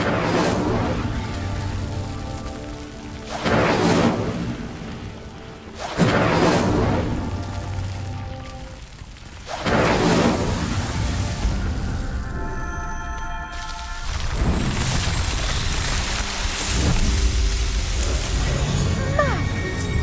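The Incendio fire spell in Hogwarts Legacy ignites pyres one after another, giving loud whooshing bursts of flame that roar and crackle, with a bright shimmering magical swell near the end.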